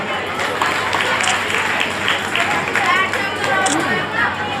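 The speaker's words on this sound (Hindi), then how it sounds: "जोरदार तालियां।" Crowd applause at a community event in Jani Khurd organised by an organisation, a steady dense wash of clapping and audience noise that carries on throughout.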